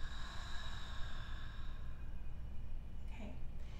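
A single deep, soft exhale during a breathing meditation, a long airy breath near the microphone that fades out, with no talking over it.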